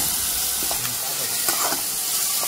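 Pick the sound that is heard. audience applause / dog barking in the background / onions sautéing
onions sautéing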